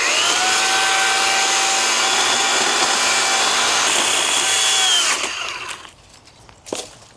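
A battery chainsaw runs at a steady high whine as it cuts through overgrown grass, loud and close for about five seconds before it stops and the sound dies away.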